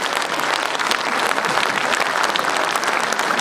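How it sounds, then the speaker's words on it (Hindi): Audience applause at a Hindi poetry recital: dense, steady clapping from a large crowd that fills the whole stretch at an even, loud level, with no break. "जरा हाथ ऊपर करिए और जोरदार तालियां बजाकर"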